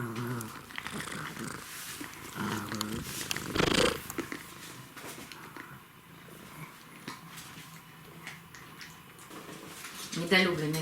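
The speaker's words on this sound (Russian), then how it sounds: "Недолюбленный кот, ложись." A contented house cat purrs in a steady low rumble with a dog heard alongside it, while a person speaks nearby over the purring.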